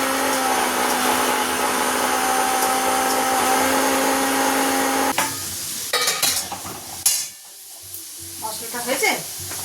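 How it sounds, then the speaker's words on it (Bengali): Onion goes into hot oil in a pan and starts sizzling with a hissy crackle, then stirring and clatter take over and the frying becomes patchy and quieter. "পেঁয়াজটা দিয়ে দিই।"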